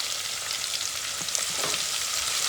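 Chopped onion frying in a pan for turiya nu shaak, a Gujarati ridge gourd curry, after green chillies, giving a steady close sizzle with faint stirring scrapes throughout.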